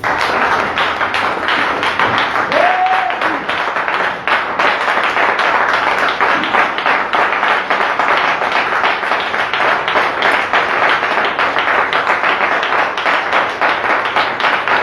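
Church congregation in Bingerville clapping together in a fast, steady rhythm, loud and close, a continuous run of sharp claps with faint voices mixed in.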